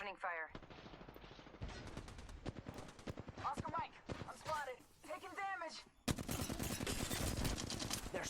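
Repeated bursts of automatic gunfire from the Apex Legends battle royale game, rapid cracks and rattles running through the match with a voice talking over much of it and a louder volley near the end.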